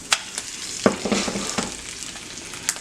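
An egg frying over medium in a pan gives a steady soft sizzle with occasional crisp pops and spatters.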